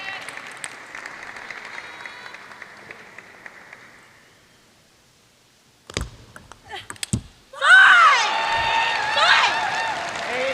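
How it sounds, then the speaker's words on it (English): A player at a Major League Table Tennis match in Portland lets out a sharp cheer. It comes after quiet rally clicks and a short pause, bursting loudly with crowd noise and applause behind it. "And you can hear the cheer of Omoda"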